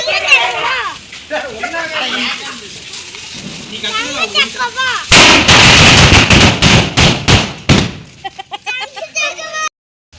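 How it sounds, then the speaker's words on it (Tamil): People talk excitedly at a Diwali celebration, then a ground spinner firecracker erupts in a loud crackling, sputtering burst with rapid pops for a few seconds before fading back to voices. "இது என்ன பட்டாசு?"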